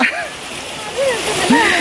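Water splashes and burbles close by, with a steady rushing stream in the background and children's voices chattering over it.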